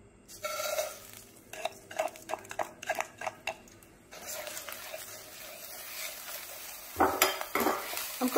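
Rice toasting in a pan for an enchilada dinner, with a run of sharp, close scraping and clinking strokes from stirring, then a softer sizzle and a louder burst of scraping near the end.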